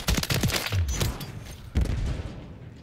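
Rapid gunfire bursts from a first-person shooter game, fired with a JAK Protean single-shot conversion, crackling in quick overlapping volleys with a booming report near the end.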